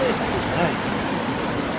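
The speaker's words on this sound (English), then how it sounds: "this is just the water coming off the hills" Steady broadband rush of rainwater runoff streaming down from the hills after days of rain, loud and continuous with no pauses.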